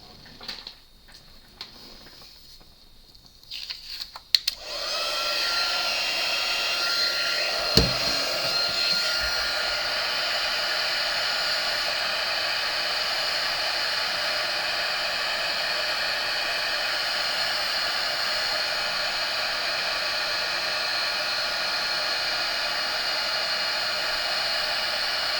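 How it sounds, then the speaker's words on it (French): Heat gun blowing hot air onto vellum paper for a card-making technique, starting after a few seconds of quiet handling and then a steady, close, loud airy whoosh that continues unbroken to the end. "Je vais mettre un petit coup de pistolet chauffant."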